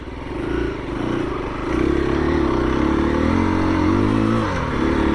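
A 2021 KTM 350 EXC-F dirt bike engine still in break-in drones steadily while riding, a loud close rumble with gentle rises in pitch and no talking.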